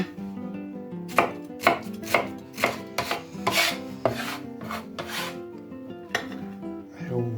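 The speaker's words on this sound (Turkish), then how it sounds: "Soğanlarımızı da ince doğrayalım." A knife finely chops onions rapidly on a cutting board in a steady run of crisp taps, close and clear, with no talking.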